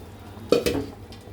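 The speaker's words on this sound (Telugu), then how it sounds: "ఇప్పుడు మెత్తగా ఎనుపుకున్న పప్పు వేసేసుకున్నాముగా, బాగా కదుపుకొని తెరలనియాలండి" Mashed dal stirred into simmering sambar in a pot: two quick spoon-and-pot scrapes with a soft thud, short and close over a quiet background.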